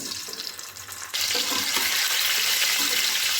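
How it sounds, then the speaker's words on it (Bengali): Duck eggs frying in oil in a pan, a steady broadband sizzle that jumps louder partway through and then holds a bright, continuous crackle with no voices. "দিয়ে ডিমগুলো ভেজে নেব।"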